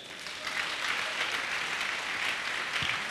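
Church congregation applauding the Lord during a French-language sermon: a dense, steady wash of many hands clapping, fairly close and sustained, with no talk.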